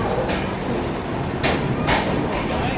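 Inside the crowded 12807 Samata SF Express running from Visakhapatnam toward Hazrat Nizamuddin, a steady loud carriage rumble fills the space, with a few brief rattling bursts on top.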